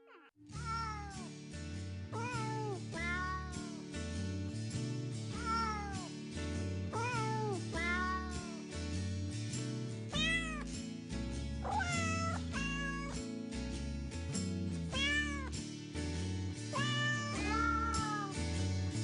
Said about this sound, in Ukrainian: Серенаду від херсонських котів пропонуємо вам послухати просто зараз.